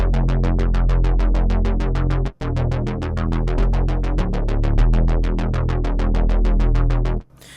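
A driving synth bass arpeggio repeats rapid even notes, its timbre shifting as the wavetable position morphs, with a brief dropout midway before stopping suddenly.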